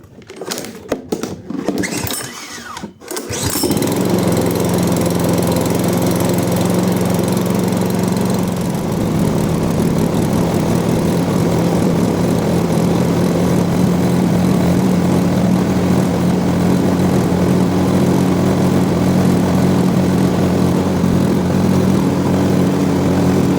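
A few quick pull-cord tugs, then a Loncin lawn mower engine with automatic choke and a newly replaced thermostat catches and runs loud and steady at close range, with no talking.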